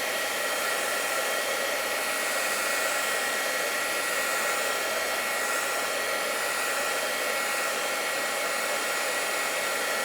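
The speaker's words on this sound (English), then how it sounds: "It's just with my heat gun." A heat gun drying a watercolor painting blows a steady, loud broadband whoosh that holds without change for the whole stretch.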